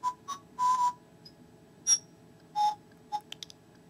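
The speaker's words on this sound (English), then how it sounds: "Whistle." Whistle effect from a Nintendo DSi sound recorder: a handful of short, clear whistled tones in quick succession, some slightly longer and some clipped, over a faint steady hum, with no talking.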